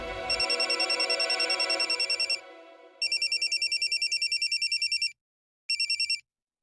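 A mobile phone rings in a domestic sitcom scene, a bright repeating electronic ringtone in loud pulsed bursts that stop and start, briefly layered over a low tone at the start, with no talking.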